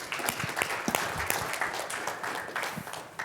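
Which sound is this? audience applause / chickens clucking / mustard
audience applause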